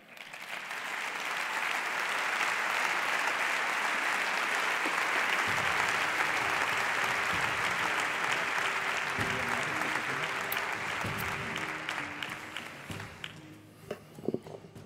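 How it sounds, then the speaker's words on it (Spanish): A theater audience at a televised awards gala bursts into sustained, loud applause that swells and holds for over ten seconds, with music joining underneath before the clapping tapers off into scattered claps. "os pedimos el aplauso del público"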